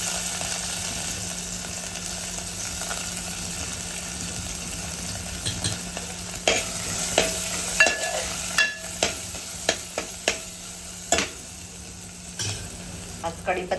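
Chillies frying in hot ghee with mustard seeds and garlic, a constant close sizzle broken by sharp scraping and clinking strokes of a spoon stirring the pan, growing more frequent in the second half.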